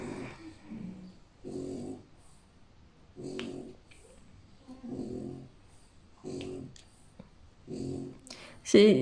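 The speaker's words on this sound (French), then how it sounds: "Je sais pas si ça vous détend, vous, le bruit des ronflements." Slow, regular snoring breaths repeat about every one and a half seconds, low and rumbling, with a louder snort near the end.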